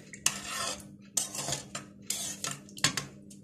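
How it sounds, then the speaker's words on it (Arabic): A spoon stirring vanilla into sugar syrup for basbousa, with several sharp metallic clinks and scrapes against the pot in an irregular rhythm, close and fairly quiet. "واقلب كده"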